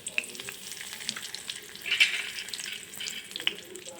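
Mustard seeds, asafoetida, curry leaves and green chilli pieces fry in hot oil in a kadai, a soft continuous sizzle with small crackles and pops, close and fairly quiet.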